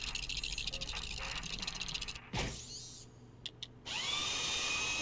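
A whirring drill from the video game Ratchet & Clank grinds steadily and loudly for about two seconds. A sharp clank follows, then quieter mechanical sounds, then a bright sustained tone.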